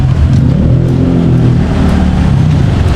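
A car engine revving loudly and steadily right next to the listener, a dense low rumble that holds for a few seconds without a break.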